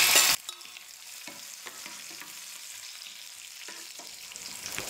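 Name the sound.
frying raisins with cashews for laddu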